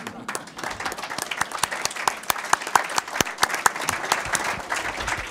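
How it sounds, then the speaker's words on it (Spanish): An audience at a lecture breaks into applause, a dense run of many hands clapping that carries on steadily for several seconds, close and fairly loud. "El aplauso ha sido por esto último."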